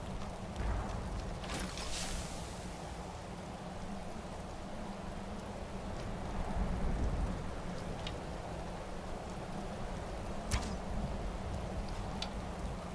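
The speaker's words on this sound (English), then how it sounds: "And it started raining." Steady rainfall in the game Skyrim hisses continuously over a low rumble, with a few brief sharper spatters and swells along the way, quiet and unaccompanied by speech.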